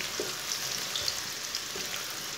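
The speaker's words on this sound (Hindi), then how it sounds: "1 बारीक कटा हुआ प्याज को ब्राउन कर लेंगे।" Finely chopped onion browns in a pan with whole coriander and cumin, giving a steady, close sizzle and frying hiss with faint stirring, no voices.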